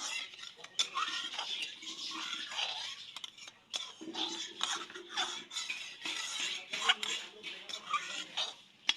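A metal spoon scrapes and clinks repeatedly around the sides of a pot of boiling milk, reducing for homemade sweet yogurt; steady close-up scraping strokes with occasional sharp clinks and no talk.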